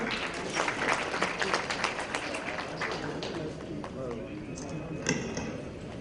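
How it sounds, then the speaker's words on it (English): An audience at a government IT inaugural event claps throughout, a busy, irregular patter of many hands, while a voice talks over the applause. "Can we have a huge round of applause, sir?"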